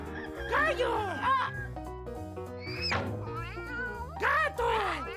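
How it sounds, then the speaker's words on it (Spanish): A cartoon cat meows in a children's animal-sounds vocabulary segment, with several drawn-out, rising and falling mews set against a music backing. "¡Gato!"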